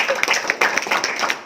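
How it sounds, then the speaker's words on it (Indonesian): A crowd claps in applause, dense and steady with a few sharper bursts, filling the whole short stretch. "Luar biasa, tepuk tangan."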